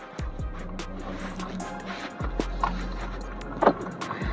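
A 2024 BMW 2 Series Gran Coupe engine turns over at the push of the start button and catches with a low rumble, then surges again partway through, with a few small mechanical clicks in the cabin.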